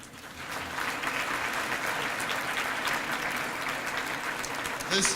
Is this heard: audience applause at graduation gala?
yes